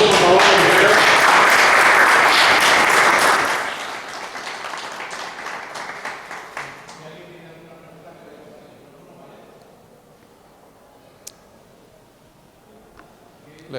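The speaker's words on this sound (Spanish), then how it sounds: "Un aplauso, por favor." Audience applause at a talk on video game journalism, loud sustained clapping from a crowd that fades out after a few seconds, followed by quiet room noise with faint talk and a few small taps.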